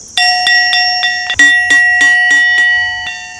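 Electric school bell ringing loud and close in a steady series of metallic strikes, the bright tone sustaining between hits with no talk over it.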